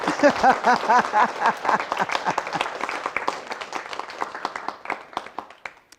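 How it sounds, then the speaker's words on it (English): An audience applauds a backup singer at a spoken-word performance. The clapping is loud at first, then thins and fades to scattered claps, with faint voices underneath. "Would you give a round of applause to my backup singer"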